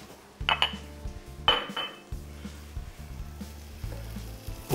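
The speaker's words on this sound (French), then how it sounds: "Quand le beurre commence à se chauffer, on met l'oignon émincé et l'ail." Sliced onion and garlic frying in butter over fairly high heat for a champagne langoustine risotto: a soft, steady sizzle broken by several sharp clanks of a utensil against the pan.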